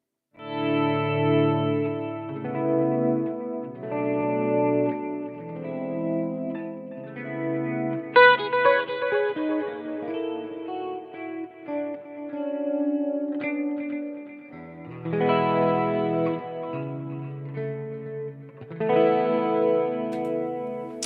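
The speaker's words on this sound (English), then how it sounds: "You can hear the volume pedal just adds so much more expression to that sort of playing." Electric guitar played through a volume pedal and effects with chorus, echo and reverb, chords swelling in softly from silence and fading, a continuous expressive passage with no talking.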